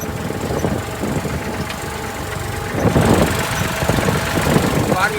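A tractor engine idles on a farm in Gujarat's Kutch area, a steady low rumbling throb that grows slightly louder partway through, with people talking over it.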